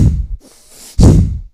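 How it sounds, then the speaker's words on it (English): Bhastrika yoga breathing, forceful nasal inhales and exhales: two loud, close rushes of breath separated by a brief quieter airy pause, no talking. "Bhastrika is forceful inhales and exhales in and out of the nose"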